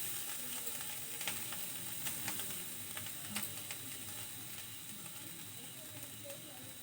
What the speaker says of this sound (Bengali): এবার কড়াই গরম হয়ে গেছে, নারকেলটা একটু নেড়ে নেব।